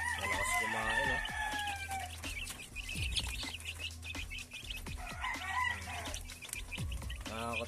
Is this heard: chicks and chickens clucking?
yes